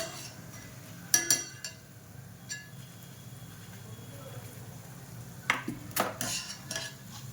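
Peanuts stirred and fried in a pan while making sweet potato chivda: a low, steady sizzle is broken by a few sharp clatters of a metal spoon against the pan, in two clusters, with quiet background between.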